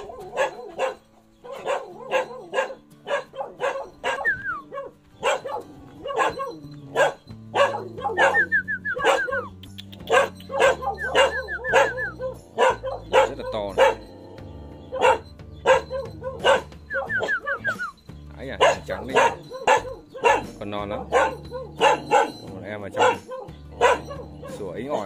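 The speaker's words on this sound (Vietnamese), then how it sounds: "Chó đeo chuông các bạn ạ." Dogs wearing bells bark and yip repeatedly in short bursts, close by and fairly loud, on a hot day in a mountain area, with people talking throughout and faint jingling in between.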